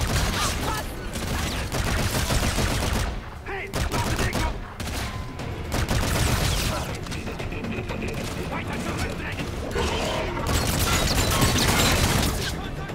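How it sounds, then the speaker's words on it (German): Sustained automatic gunfire from Call of Duty: Infinite Warfare, dense bursts of shots with brief pauses, loud and continuous with game effects mixed in. "Und dann brauchst du ja auch mal ein halbes Magazin, um die wegzuschießen"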